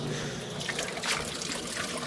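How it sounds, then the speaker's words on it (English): Water trickles steadily out of the back of a worm composting tower drawer, a continuous close, moderately loud liquid dribble with no one speaking. "you'll see water now coming out the very back of the system."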